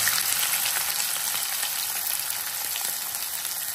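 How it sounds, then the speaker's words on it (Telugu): Chopped onions fry in hot oil with cumin seeds for an egg curry, giving a steady, close, even sizzle that hisses on without pause or speech. "ఇప్పుడు జీలకర్ర తర్వాత మనం కోసి పెట్టుకున్న ఉల్లిగడ్డలు వేయాలి."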